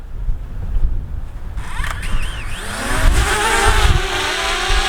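A DJI Mavic Mini drone lifts off from a hand outdoors near a river on a windy day, its small rotors whining up to a steady high buzz over gusting wind noise.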